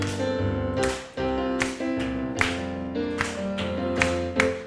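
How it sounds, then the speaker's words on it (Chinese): Hands clap together in steady rhythm at a church prayer meeting, many claps landing over sustained music, loud and close with no talk. "我们一起拍掌。"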